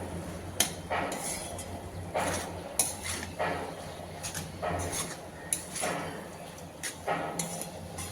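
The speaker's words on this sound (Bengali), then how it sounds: "এবার মশলার সঙ্গে আলু আর মোচা খুব ভালোভাবে মিশিয়ে নিতে হবে।" Spoon clinks and scrapes against a pan at irregular intervals as boiled potatoes and banana flower are mixed with spices for mocha ghonto, with soft stirring noise between the knocks.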